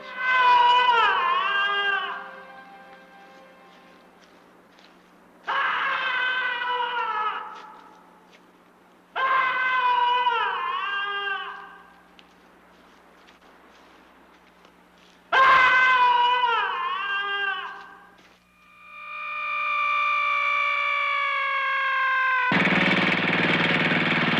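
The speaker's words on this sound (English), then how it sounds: "When provoked, the skull's angry screams reverberate for miles." Dramatized wailing screams of a haunted human skull at Bettiscombe Manor, several long loud howls with wavering pitch separated by brief pauses, ending in a sustained rising shriek and a harsh burst.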